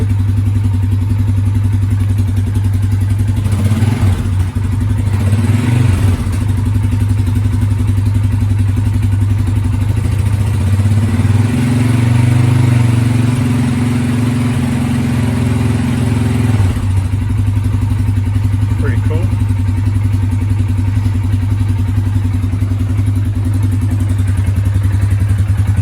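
A 2021 Polaris Sportsman 570 Touring ATV engine runs steadily throughout, a loud, even low drone with a brief rev and some clatter near the middle, with no talking.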